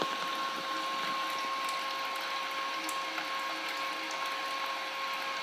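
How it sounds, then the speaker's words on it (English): Water trickles steadily from a runoff line into a sample collection container, a continuous close hiss and splash with a faint pump-like hum underneath, unchanging throughout. "Try to get it at about the right trickle that I want."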